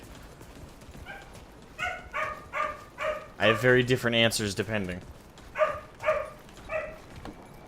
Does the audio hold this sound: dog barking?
yes